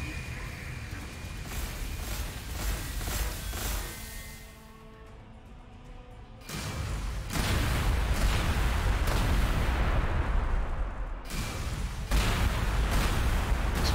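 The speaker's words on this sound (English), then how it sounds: "Some shots on the spider." Rapid bursts of gunfire and booming shots hit a spider unit in Warhammer 40,000: Gladius, loud and repeated throughout, with a brief quieter lull partway and no talk.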